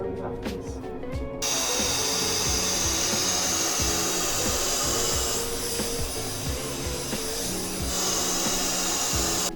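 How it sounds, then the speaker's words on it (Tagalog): A hair dryer blows steadily and loudly up close, a continuous whooshing roar with slight shifts as it moves. "Hindi ako sanay sa blower."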